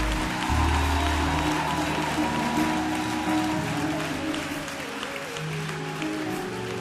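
A church congregation applauds and cheers in praise of the Lord, giving sustained dense clapping across a large hall, with a low musical tone underneath and a slight fade toward the end.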